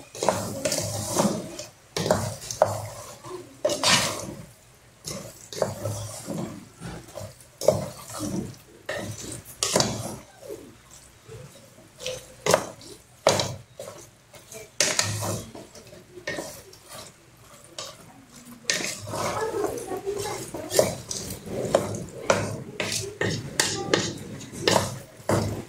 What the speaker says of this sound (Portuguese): Vou misturar bem aqui, ó.